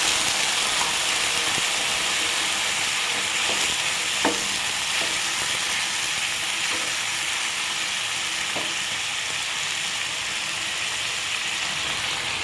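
Snake gourd curry sizzles and steams steadily in the pan just after three spoons of water go in, a constant hiss with a few faint utensil clicks.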